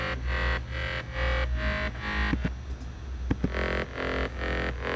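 First layer of a progressive house drop lead synth with mid-bass texture, pulsing rhythmic chords in steady repeated hits, close and full, with a brief break of noisy clicks midway before the pattern resumes.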